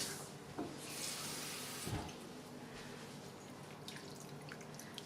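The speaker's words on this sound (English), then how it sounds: "We're going to add a half cup water." Half a cup of water poured into a hot cooking pan of sweet Asian chili chicken: a steady, splashing rush with a couple of sharper bursts near the start, heard alone and fairly close.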